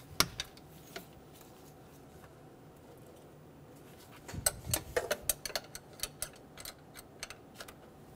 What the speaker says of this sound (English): I'm using a flat blade screwdriver to hold it still while I torque them.